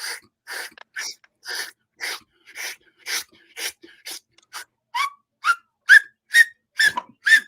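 Someone teaches themselves to whistle, making about a dozen evenly spaced breathy puffs of air that gradually turn into short, clear whistled chirps near the end.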